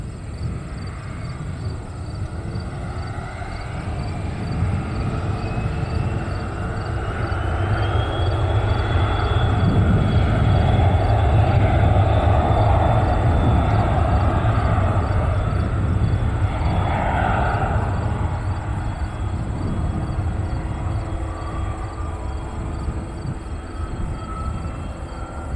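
A small plane takes off at Spirit of St. Louis Airport, its engine drone rising from a moderate rumble to a fuller roar mid-way and then holding steady at a distance, with no talking.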